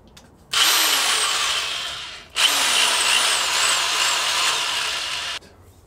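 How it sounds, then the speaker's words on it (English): A power drill whines loudly in two long bursts with a brief pause between them, its pitch rising and falling slightly, close by, while wiring a solar power setup. "Got the world's most annoying drill here."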